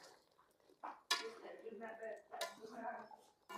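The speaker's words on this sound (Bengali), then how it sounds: "একটু নেড়ে দিব।" Beef curry with whole garlic cloves being stirred in a cooking pot, a few distinct clanks and scrapes of a spoon against the metal, fairly quiet, with a person talking over it.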